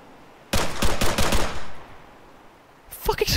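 Bursts of automatic gunfire from the military shooter game ARMA 3: a rapid string of shots, a pause, then another short burst, loud and close.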